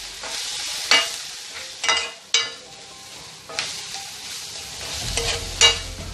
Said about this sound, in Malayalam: ഇനി ഇതൊന്ന് ലൈറ്റ് ബ്രൗൺ ആവുന്നിടം വരെ നമുക്ക് വഴറ്റി കൊടുക്കണം.